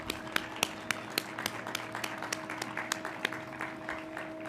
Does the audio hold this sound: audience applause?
yes